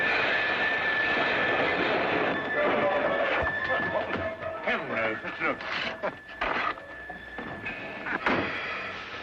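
A train rumbles steadily along the tracks with a faint whining tone, while people talk over it.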